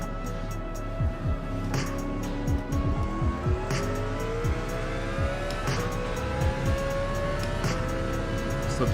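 A Mercedes CLK races in Gran Turismo 7, its engine droning loud and steady as the pitch climbs through gear changes, with brief tire squeals and shift blips breaking the continuous roar.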